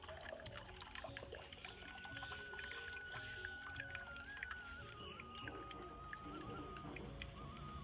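Homemade watermelon sharbat made with fresh cow's milk pours through a mesh strainer, a steady liquid splash and trickle mixed with faint kitchen clatter, close and fairly quiet throughout.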